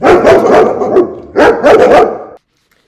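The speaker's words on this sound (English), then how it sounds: "my dog is barking" A dog barks in two quick bursts of several loud, close barks each, separated by a short pause, then falls silent.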